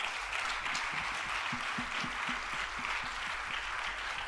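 A convention audience applauding the word of God, a dense continuous wash of many hands clapping at steady volume throughout, with faint low murmurs underneath.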